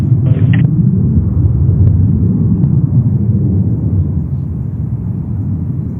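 An ABX Air Boeing 767, one of the oldest still flying, at JFK airport gives a steady low jet roar that fades slightly toward the end, heard from a distance with no speech.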